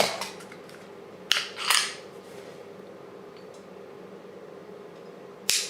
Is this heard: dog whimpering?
no